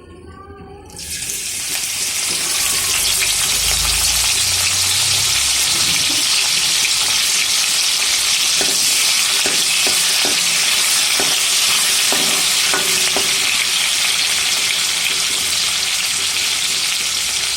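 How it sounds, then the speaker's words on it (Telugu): Washed dried prawns hit hot oil in a kadai with a sudden loud burst, then keep up a strong, steady sizzle for the rest of the time, with occasional spoon scrapes and no talking. "పచ్చివాసన పోయేంత వరకు ఎండ్రాయిలు వేయించుకున్నాము"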